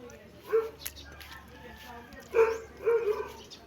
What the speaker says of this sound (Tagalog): Marami dito mga aso